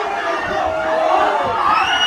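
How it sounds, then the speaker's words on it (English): A fight night arena crowd roars continuously, a dense wall of cheering and shouting sustained at high volume throughout. "The crowd is going wild."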